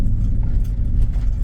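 A truck and a second vehicle travel a dusty dirt road on the drive to Cerro Gordo, a steady low engine rumble with tire crunch, close and continuous throughout.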